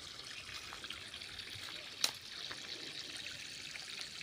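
Water trickles steadily into a cattle drinking trough on a farm, a faint, even splashing stream with one brief sharper splash midway and no talk.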